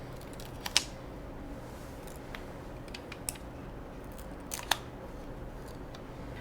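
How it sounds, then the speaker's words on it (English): Backing paper peeled off an Accu-Chek Insight infusion set makes a few sharp, crisp crackles and ticks close by, two standing out clearly against a faint, steady background hiss. "We're going to remove this paper."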